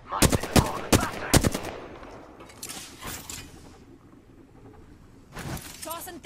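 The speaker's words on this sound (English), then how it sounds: "Getting shot at." Gunfire in a first-person battle royale shooter: several sharp, loud shots in quick succession, then a spell of quieter rumbling, with a final burst of shots near the end.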